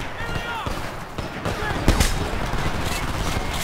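The Diablo SMG fires in the video game Homefront The Revolution, with rapid bursts of automatic gunfire and a heavy impact mixed into busy game noise, while a voice is heard over it.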